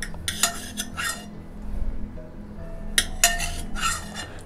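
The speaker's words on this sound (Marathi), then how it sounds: "तर आता मी ह्या टोपना जरा घासून घेते" A metal cooking pot being scrubbed in a home kitchen, with bursts of scraping and clinking metal at about half a second, one second and again near three seconds, separated by quieter pauses.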